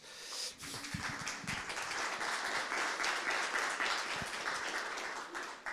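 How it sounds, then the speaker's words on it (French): Audience applause at a conference session, steady clapping from a crowd filling the space, moderately loud, with a faint voice or breath near the start. "si on peut applaudir, bien sûr"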